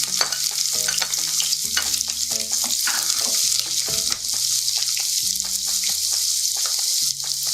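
Diced onion fries in hot vegetable oil, a steady close sizzle filling the whole stretch, with occasional scrapes and knocks of a spoon stirring through the pan.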